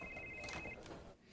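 A phone ringtone gives a thin, steady electronic tone for under a second, faint and partly buried under noisy background sound.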